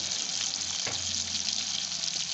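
Chopped onion sautés in a pan for feijoada, a dense, steady sizzle close by with a brief stir or scrape in the middle and no talking.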